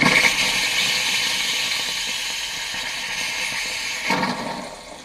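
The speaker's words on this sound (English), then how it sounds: "With the system pressurized, I open the drain on the hot water tank" Water rushing out of an opened drain on a boat's pressurized hot water tank, a steady broadband hiss that slowly fades, then surges again briefly near the end.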